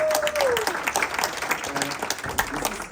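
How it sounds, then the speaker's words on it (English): An event audience claps and cheers at a startup pitch competition in Warsaw, a dense close burst of applause filling the whole moment with a few voices mixed in. "Guys, round of applause."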